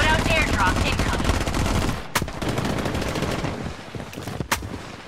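Rapid gunfire in the video game Blood Strike on the Shutter Island map, dense bursts of automatic shots with a couple of sharp, loud cracks standing out, amid constant battle noise.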